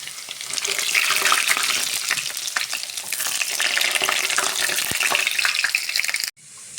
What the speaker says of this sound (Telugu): తెల్లగడ్డ పైకి ఎగరుతున్నట్టు చూస్తే కదా ఫ్రెండ్స్. అంత నూనె తాగిందో పైకి ఎగురుతుంది.